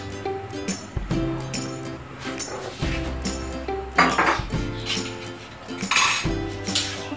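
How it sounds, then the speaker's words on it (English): Seafood stir frying in olive oil in a pan, with a metal utensil repeatedly clinking and scraping against the pan in irregular bursts over a soft sizzle, close and fairly loud. "we will stir fry our seafoods"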